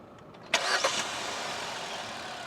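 Hyundai Exter with a 1.2 Kappa four-cylinder petrol engine cranks briefly and catches, then settles into a steady, smooth idle, heard close and alone.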